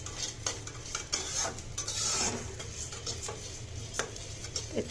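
Coarse rice being dry-fried in a pan, stirred continuously with a light sizzle and repeated close scraping strokes.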